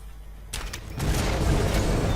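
Gunfire in the video game Shadow Warrior: two sharp blasts about half a second apart, followed by a loud, sustained roar of noise.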